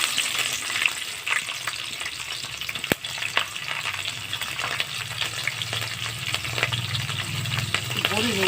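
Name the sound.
green chilies frying in hot oil tempering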